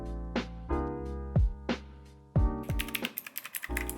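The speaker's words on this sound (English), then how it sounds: "Mechanical keys, that's so nice." Mechanical keys on a Divoom pixel speaker are pressed up close: several crisp, separate clacks, then a fast flurry of rattling clicks like a keyboard being typed on.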